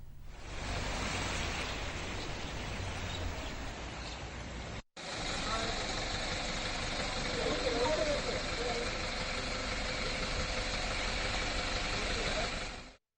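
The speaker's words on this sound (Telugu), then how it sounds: "ట్రాక్టర్లను వినియోగిస్తున్నారు." A tractor engine runs through a flooded area during heavy rains, a steady low rumble under dense, wash-like broadband noise that continues almost unbroken for the full length, with only a brief cut near the middle.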